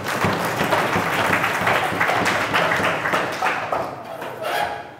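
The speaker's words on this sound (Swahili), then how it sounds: "mpigieni makofi ya kutosha" An audience at a political rally in Tanzania applauds for Samia Suluhu Hassan: dense, steady clapping from many hands, loud and close, fading slightly near the end.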